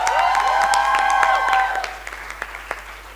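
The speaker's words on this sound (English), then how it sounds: "Ladies and gentlemen, a huge round of applause for your panel." Media festival audience gives a panel a round of applause, a dense, loud wash of clapping under a sustained musical tone that fades into scattered individual claps.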